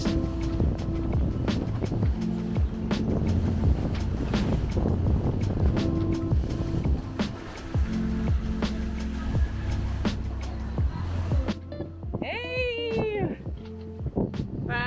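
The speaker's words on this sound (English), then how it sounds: "Our first real sail with an amazing angle and perfect wind." A sailboat under sail in strong wind in the Caribbean: continuous loud rushing wind and water noise, ending with a few brief, high, wavering tonal cries near the end.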